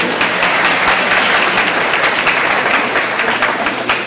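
An audience at a National Honor Society induction claps loudly and continuously, a thick, close, sustained roar of many hands with no pauses.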